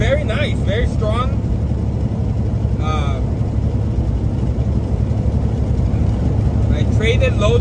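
A truck engine runs with a steady low rumble throughout, while someone speaks over it in short bursts near the start, middle and end.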